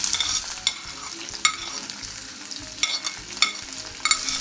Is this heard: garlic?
yes